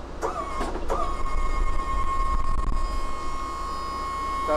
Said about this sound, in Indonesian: Mesinnya nih 6 silinder, turbo diesel. Tapi alusnya tuh kayak 8 silinder.